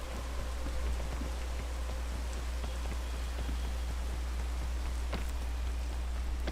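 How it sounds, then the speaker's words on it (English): Steady rainfall in Minecraft, a constant hiss of falling drops with scattered faint patters, even and unbroken throughout with no talk. "The rain is what's gonna kill me at this point."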